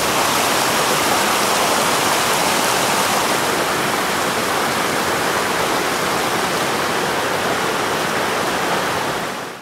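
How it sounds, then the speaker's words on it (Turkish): Water of the Kirmasti creek rushing in a steady, loud, unbroken roar, close by and alone without voices. "Mustafa Kemal Paşa Kirmansli Deresi."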